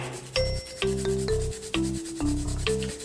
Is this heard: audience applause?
no